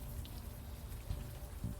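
Rain in the video game Unavowed, a steady dense patter of rain on surfaces, continuous and fairly even, with no talk.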